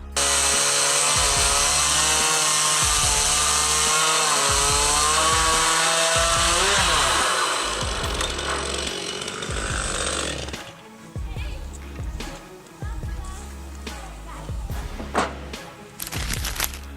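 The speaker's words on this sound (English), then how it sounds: "We've got the tree cutting tool from Makita, the Makita DUC353." A Makita DUC353 cordless chainsaw cuts into a tree, its electric whine running loud and steady for several seconds with shifting pitch, then breaking into choppier bursts and knocks as the cut proceeds.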